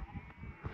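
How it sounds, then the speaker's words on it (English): A brief bleat from sheep in open fields in the Scottish Cheviots carries over a breezy outdoor background, moderately faint and somewhat distant. "They're all full of sheep. They're a right racket."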